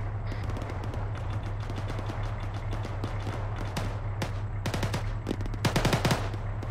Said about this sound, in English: calm down with that fucking Mark 19 fire